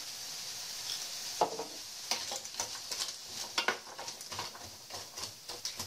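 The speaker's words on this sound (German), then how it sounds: "Handvoll Sonnenblumen und Kürbiskerne dazugeben. Ein bisschen mit anrösten." Sunflower and pumpkin seeds toasting in a pan for a pumpkin spread, with soft sizzling under irregular scraping and stirring clatter, close and moderately loud.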